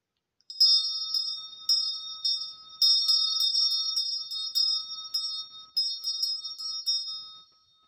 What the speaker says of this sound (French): je vais passer un petit coup de cloche pour ouvrir à la séance